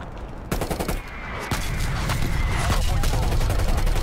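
Artillery bombardment in Call of Duty: Black Ops Cold War, with loud booming impacts and rapid gunfire bursts that build into a dense, continuous barrage.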